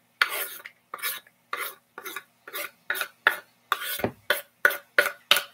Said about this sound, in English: We're going to take our breadcrumbs and we're just going to dump our onion in there.